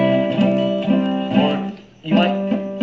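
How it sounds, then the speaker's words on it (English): Guitar chord strums dulled where the fretting fingers touch neighbouring strings, repeated several times with a brief pause midway, close and clear with short, choked sustain. "Or you might get this muted sound."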